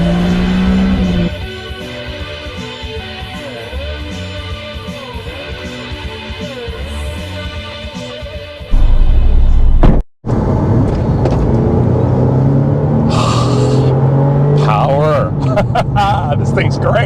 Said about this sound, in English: I'm driving the least desirable Porsche 911 ever produced